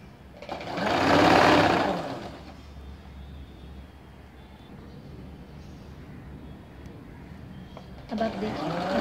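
A sewing machine hums through a straight seam on ladies' straight-cut pants, a steady whirring run that swells briefly early on, settles into a low drone, then picks up again at the end.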